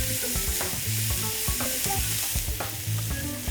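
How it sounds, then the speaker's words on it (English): Sliced onions and green peppers fry in butter and a little oil, sizzling steadily while utensil strokes scrape and tap against the pan, close and continuous with no talking. "Fry the onions and peppers in butter."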